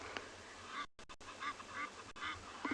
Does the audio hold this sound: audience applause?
no